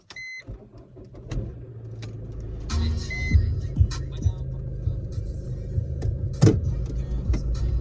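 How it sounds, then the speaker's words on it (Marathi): A car engine hums steadily while the vehicle moves and comes to a stop, with a few clicks, thumps and a brief electronic beep. "गाडी पार्क केली आणि निघाली मी क्लिनिककडे"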